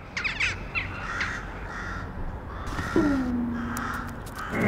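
Jackdaws give several sharp, nasal calls from near chimney stacks, a few clustered early and then a longer drawn call, fairly close against a soft outdoor background.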